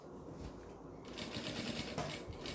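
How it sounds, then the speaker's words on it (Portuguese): A sewing machine stitches a seminole-style rug with a steady rapid clatter, moderately close, its rhythm quickening partway through. "E venho costurar."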